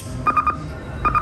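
Two short pairs of bright electronic beeps from a slot machine prompting for more money, a quick double chime, then a pause before it repeats.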